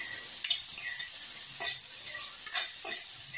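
Tomatoes and peas sizzle steadily in a pan for a Matar Bharta, with a few scraping spoon strokes stirring them at intervals; no voices.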